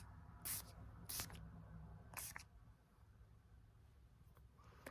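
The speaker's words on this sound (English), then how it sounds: "I'm just gonna spray that on you." Makeup setting spray is misted onto a face in a quiet ASMR makeup session: three or four short, close hissing bursts at irregular intervals, with soft rustles between and no talking.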